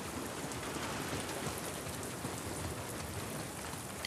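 Steady, dense rain pattering without pause in the video game The Last of Us Part II, even and moderately loud, filling the scene like a continuous downpour heard from shelter.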